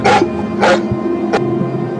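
A dog barking close by, two sharp barks followed by a short yip, each separated by brief pauses.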